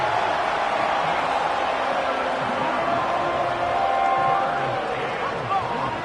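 Stadium crowd in the Madden football video game roaring and swelling before a third-and-long play, a dense continuous wash of cheering that holds steady throughout with no clear talk over it.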